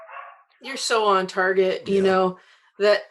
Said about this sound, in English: I'm so sorry about the dog.